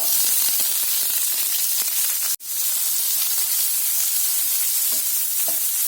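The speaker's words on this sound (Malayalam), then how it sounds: "സവോള ഇട്ട് വഴറ്റുന്നു." Onions sautéing in hot sunflower oil in a pan, a loud, continuous, close sizzle with faint stirring scrapes, broken once by a very brief dropout.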